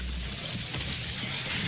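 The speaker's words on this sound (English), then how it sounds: "Glory kill on the pain elemental? Yeah. And with a crunch." Meaty glory-kill crunch on a Pain Elemental in the DOOM Eternal video game, a dense broadband shattering burst with scattered cracks, heard alone at moderate level over steady game noise.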